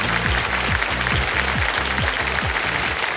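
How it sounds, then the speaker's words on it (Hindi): Steady burst of game show studio audience applause, dense and continuous, sitting over rhythmic low music beats pulsing throughout. "जनता ने पहले ही ताली बजा दी।"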